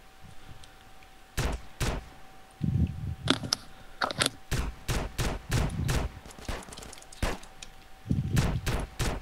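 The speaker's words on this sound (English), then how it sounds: "Who the hell is shooting me?" Gunfire in the GTA San Andreas multiplayer game SA-MP: a long run of sharp, separate shots, some single and some in quick bursts, spread unevenly across the whole stretch at moderate loudness, with no talk over them.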